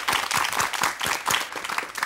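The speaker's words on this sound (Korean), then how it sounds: "여러분 따뜻한 박수로 맞이해 주십시오" A studio audience on a Korean TV talk show bursts into warm, dense applause to welcome an actor guest, a continuous rippling clatter of many hands at close range.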